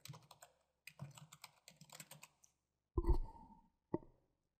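Fingers tap out a crossword title on a computer keyboard in quick, uneven bursts of close clicks, pausing briefly between runs, then two louder, heavier key strikes land near the end with a short gap between them.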